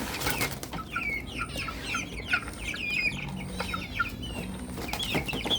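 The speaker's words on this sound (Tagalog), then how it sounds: "Ang ating mga manok." Several chickens cluck and chatter close by, with scattered high calls and a little wing rustling over a low farmyard murmur.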